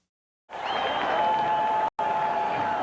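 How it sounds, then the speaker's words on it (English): A large football crowd roars and applauds at Foxborough stadium during a New England Patriots game, a dense, sustained wash of noise that surges in after a silent moment and keeps going steadily, broken by one brief cut. "when's the last time you saw the crowd rocking at Foxborough?"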